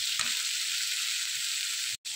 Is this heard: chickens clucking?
no